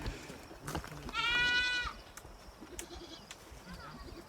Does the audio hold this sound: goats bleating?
yes